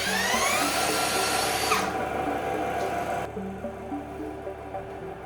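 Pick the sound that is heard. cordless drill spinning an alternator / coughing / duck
cordless drill spinning an alternator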